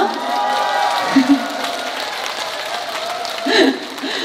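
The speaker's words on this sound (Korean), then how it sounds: "끝에서부터 왔는데 박수 소리가 조금 작긴 하네요." A crowd at the Beopseongpo Dano festival gives scattered, fairly soft applause that carries on steadily and rises briefly near the end, with a voice also heard.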